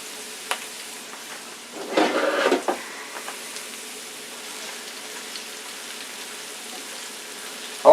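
Vegetables cook in a pan before hash browns go in, making a steady soft sizzle with a brief louder burst of stirring partway through and a sharp clatter at the very end.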